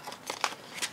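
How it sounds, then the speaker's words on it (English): Scissors snip paper flower cutouts while a planner spread is being decorated: a few crisp, close cuts in quick succession, with no voices. "Grab my scissors and do a little clip and snip."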